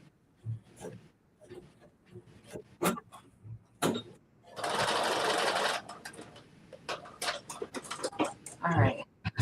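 A sewing machine runs in one steady burst of about a second and a half while stitching a coat, surrounded by clicks, handling noises and brief movement sounds before and after.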